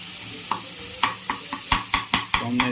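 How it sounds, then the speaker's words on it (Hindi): A spoon stirs tomatoes into mutton namkeen in a kadai, giving about nine sharp scraping knocks in a quickening rhythm over a soft sizzle of frying, close and clear with no talking. "अब इसको थोड़ा सा और ऐसे मिला मिला के चलाते रहेंगे, धीरे धीरे टमाटर इसके अंदर मेल्ट हो जाएगा।"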